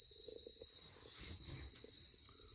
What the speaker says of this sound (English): your idea of a summer night is crickets and cicadas.